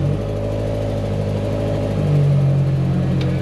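A 1965 Land Rover Series IIA's engine pulls away from a stop in first gear, a loud steady mid-pitched drone from inside the vehicle that rises slightly in revs toward the end.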